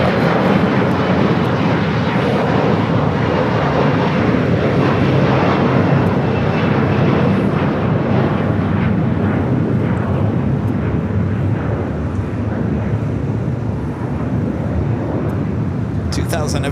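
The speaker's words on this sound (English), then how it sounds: "let's go to the heavy about to arrive here on the south side. Turkish A350-900" Turkish Airlines Airbus A350-900 heavy jet arriving on the south side at LAX after a flight from Istanbul, a steady broadband engine roar held throughout at moderate loudness, with voices talking over it.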